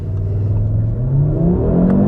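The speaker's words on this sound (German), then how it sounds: "Ich bremse mal und beschleunige jetzt gleichzeitig nochmal durch." A 2021 Audi RS 3 Sportback revs hard while braked and accelerating, its engine note climbing steadily in pitch over two seconds, loud and close from the cabin with no speech.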